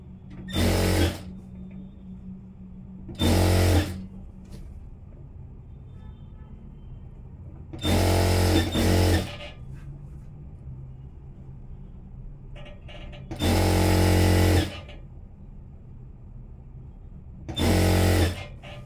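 A sewing machine stitching a folded three-quarter-inch hem on a churidar, running in five short loud bursts of rapid whirring with quiet pauses between, close up.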